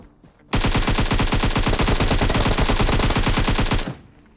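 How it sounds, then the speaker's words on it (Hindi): Automatic gunfire in a battle royale shooter game, a loud continuous rapid burst of shots lasting over three seconds before stopping abruptly. "जो गन फाइट के साउंड है वो अभी भी लगातार आए थे"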